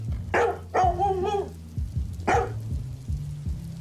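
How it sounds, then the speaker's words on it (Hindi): A dog barks loudly indoors in a few sharp, close barks spaced apart, with a steady low hum running underneath. "तभी उसका कुत्ता जान जोर जोर से भौंकने लगा।"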